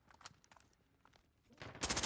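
Gunfire in Call of Duty Modern Warfare, rapid bursts of automatic weapon shots crackling in quick succession, with a louder, denser volley toward the end.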